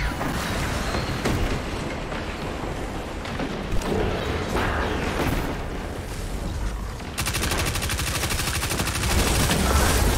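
SMG fire in Destiny 2 Crucible Mayhem comes as dense, rapid bursts of automatic shots, loud and close, running almost without a break.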